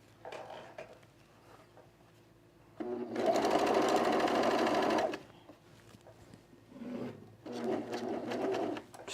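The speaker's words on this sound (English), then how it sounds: "I'm gonna overlock this edge here" An overlocker serges the edge of fabric for a V-neck coat in two bursts, a long steady whir lasting about two seconds and then a shorter run, with quiet handling noise in between.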